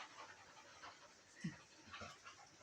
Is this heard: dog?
yes